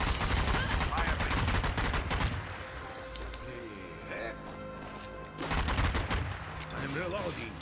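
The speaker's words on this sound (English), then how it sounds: "Now you're out of the caves, so you should be able to fire." Rapid bursts of gunfire in the zombie shooter Zombie Army 4: Dead War, loud and dense at the start and again near the end, with a quieter lull between the volleys.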